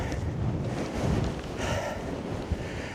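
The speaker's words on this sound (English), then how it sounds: "wind's picking up quite strong now" Strong, steady wind buffets the microphone on an exposed Scottish mountain ridge during a hike up Meall nan Tarmachan, a loud continuous roar with rumbling gusts and no talking.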